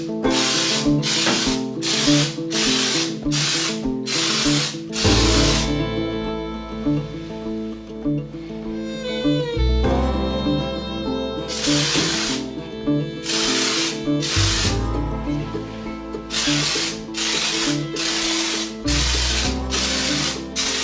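Vega Bond Purplecoat spray foam insulation hisses from a can in bursts of a few seconds each, with brief gaps between them, loud and close, over a droning background of music.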